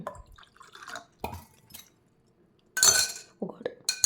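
Water is added to a drink and mixed, heard as a few short drips, splashes and glassy clinks of a utensil against the glass, close by, separated by quiet pauses.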